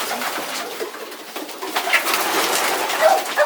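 A racing pigeon hen of Houben lineage coos in a loft, with soft repeated coos and rustling close by and no speech.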